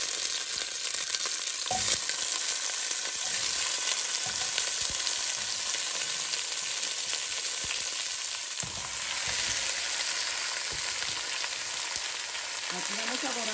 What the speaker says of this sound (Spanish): Entonces aquí voy a poner a darles una doradita